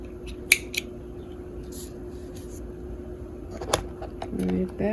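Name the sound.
scissors cutting embroidery thread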